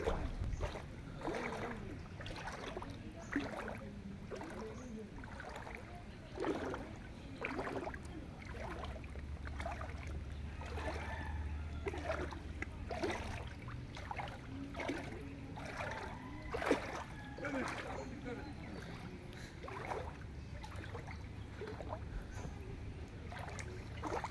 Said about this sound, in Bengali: এই যে নুরু মিয়া ঘাস কাটতে আছে নৌকা দিয়ে